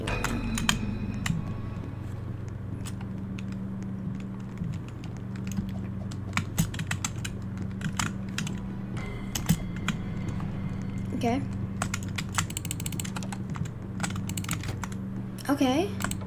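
Rapid clicking of a computer keyboard under a steady fan hum, irregular bursts of keystrokes close to the microphone, with a voice speaking at times.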